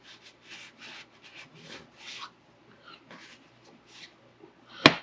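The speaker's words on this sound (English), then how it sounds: "Give me a second to scrub this one down a little bit." Short bursts of brisk scrubbing on a Graco 3400 line striper pump part, rhythmic rubbing strokes at close range, ending with a sharp, loud scrape or knock.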